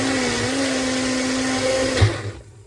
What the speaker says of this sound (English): So I'm using my little drink machine to puree my berries.